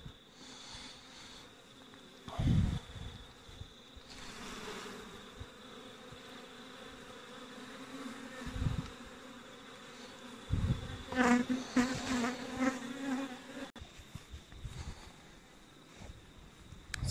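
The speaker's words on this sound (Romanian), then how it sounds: "Cred că această familie aici au adunat toate albinele zburătoare." Honeybees buzz from an opened winter beehive being moved to its wintering site, a soft continuous hum with louder bursts as bees fly close, plus occasional knocks and handling sounds.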